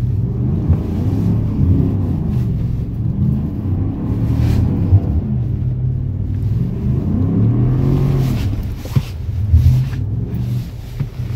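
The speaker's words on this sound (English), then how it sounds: "Let's go back and do a donut." A car doing a donut on snow with traction control off, its engine revving and droning in rising and falling surges, close and loud, with no talk.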